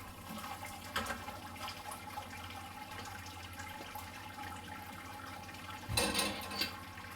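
Liquid trickles and splashes steadily from a lifted grain basket during a pale ale brew, a continuous wet draining sound with a couple of louder splashy bursts, close by and with no talking.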